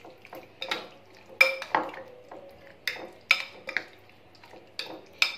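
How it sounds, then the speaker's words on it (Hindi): A spoon mixes marinade spices with two tablespoons of oil for malai boti. Close, intermittent clinks and scrapes against the pan come in irregular bursts with quiet gaps between them, and no one speaks. "अब इन तमाम चीज़ों को हम अच्छे से करेंगे मिक्स।"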